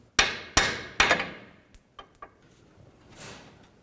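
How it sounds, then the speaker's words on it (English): Three sharp, ringing metal hammer blows on a punch driving out a rusty front lower control arm bolt on a 2013-17 Nissan Sentra land in quick succession, then a few lighter taps and a faint scrape. "Just hit it with a hammer"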